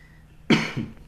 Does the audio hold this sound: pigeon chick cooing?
no